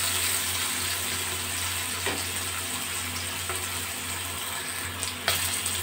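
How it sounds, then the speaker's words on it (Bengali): Bitter gourd slices frying in oil in a pan, a steady close sizzle running throughout with a couple of faint stirring scrapes. "উচ্ছেটা ভাজার সময় মাঝে মাঝে একটু নেড়ে চেড়ে দেবো"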